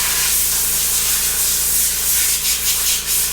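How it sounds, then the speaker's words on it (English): Compressed air blasts steadily across raw sheet metal on a traditional Ford hot rod project, a loud continuous broadband hiss with slight surges near the end, heard alone. "I blew all the raw sheet metal off with the compressor"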